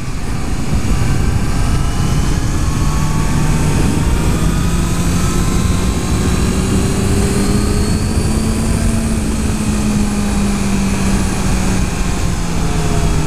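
A 2014 Honda CBR650F motorcycle engine droning steadily while being ridden quickly, with a continuous loud hum and slowly rising and falling pitch over heavy wind rush.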